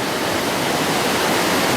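A fast-flowing river in spate near Aberfeldy gives a dense, loud, unbroken rushing roar, steady throughout like a waterfall, with no voices.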